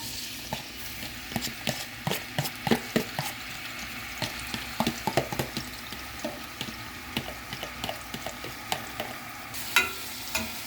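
Chopped onions fry in sunflower oil, sizzling steadily, while a spoon stirs and scrapes the pan in quick, irregular clicks. The sound is close but fairly soft, with no voices.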